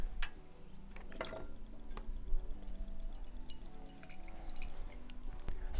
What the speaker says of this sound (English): So let's pour. Start with Spourtiko.